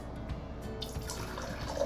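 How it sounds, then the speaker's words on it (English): Clear water poured from a pitcher into a row of glass containers: a soft, steady trickle and drip, quiet and close, with no talking. "I'm gonna take my nice pitcher of water and I'm gonna pour some clear water into each container."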